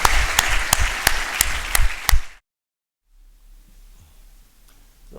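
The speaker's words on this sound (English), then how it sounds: "could you all please give him a big round of applause?" An audience claps for a speaker at a formal event: dense applause with sharp individual claps for about two seconds, then it cuts off abruptly into near silence.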